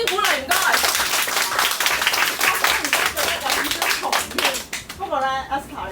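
A live talk-show audience applauds to welcome the host, a dense, steady patter of many hands clapping for about five seconds before a voice speaks over the tail end.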